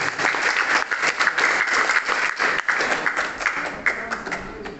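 Crowd applause for the head of the education office at a student achievement award ceremony in Kupang, a dense, steady wash of clapping from many hands lasting several seconds.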